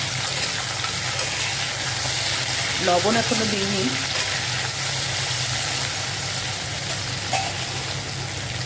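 Potatoes fry in oil in a pan with a steady, close hiss and crackle that carries throughout, while someone speaks briefly over the sizzle.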